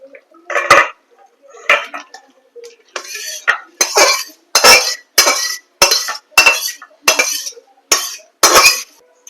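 Thin chicken curry is ladled out of a cooking pot in a run of about a dozen loud, rhythmic scrapes and metallic clinks, each a short burst with brief gaps between.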